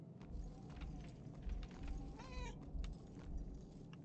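A cat meows once in the game Murdered: Soul Suspect, a short rising wavering call near the middle, heard over steady low ambient game background noise.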